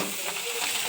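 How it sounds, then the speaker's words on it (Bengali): An egg frying in a pan for egg noodles gives a steady, dense hiss of close sizzling that fills the whole moment evenly, with no talk. "এই ডিম এটা একটু ভেজে নিই"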